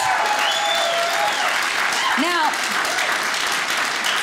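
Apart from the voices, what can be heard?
audience applause for veterans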